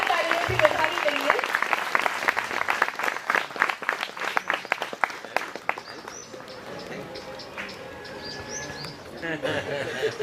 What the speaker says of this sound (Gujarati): આપણે એમને પણ જોરદાર તાળીઓથી વધાવી લઈએ.